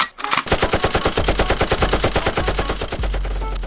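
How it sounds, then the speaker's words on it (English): Gun turrets open up in rapid automatic fire against Superman, a loud, close, evenly spaced burst of bullets rattling without a break for several seconds. "So Batman activates these turrets and they start pushing this man back"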